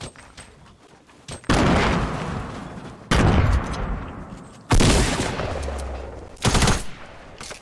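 Fortnite gunfire comes in several loud, close bursts of rapid automatic shots, each lasting about a second and separated by quieter pauses, with no talk over it.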